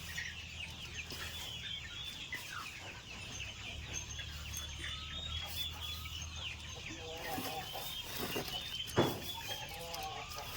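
Chickens eating feed in the rainy season, scattered soft pecks beneath steady clucking from several birds close by, with one sharper knock near the end.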